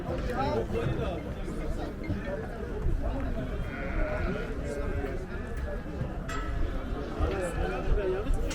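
Sheep bleating amid a busy flock, with hooves clattering and people talking nearby throughout.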